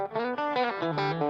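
Electric guitar with a Fender clean tone through a black 2x12 cabinet like a Fender Twin Reverb plays a quick phrase of sustained, bright notes, up close and without voices.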